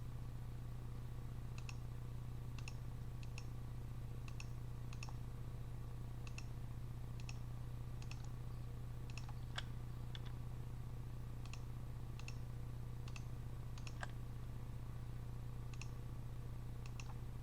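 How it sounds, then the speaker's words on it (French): Crisp computer keyboard clicks tap in an irregular rhythm, about a dozen light close keystrokes over a steady low hum while the Alt key is pressed during image editing. "j'appuie sur Alt pour retirer"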